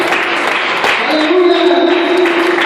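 Church congregation at a Venezuelan apostolic youth service clapping, a dense continuous patter of hands under sustained voices or tones, loud and close throughout.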